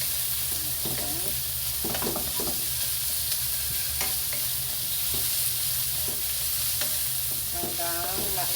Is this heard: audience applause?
no